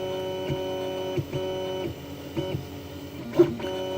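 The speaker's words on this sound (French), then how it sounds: "ça commence à imprimer." An Anet A8 3D printer starting a print, stepper motors whining in shifting steady tones with small clicks and bumps as the head changes direction, close and alone.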